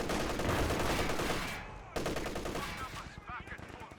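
MG34 machine gun bursts in the Company of Heroes 2 WWII strategy game, a rapid rattling stream of shots that cuts off briefly and resumes, with battle noise and a faint voice underneath.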